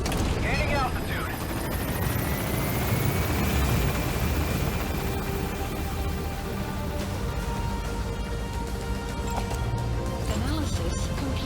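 Pequod helicopter from Metal Gear Solid climbing, a dense steady rotor and engine roar with a rising whine, loud and continuous throughout amid game effects.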